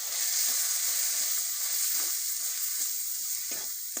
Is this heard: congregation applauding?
no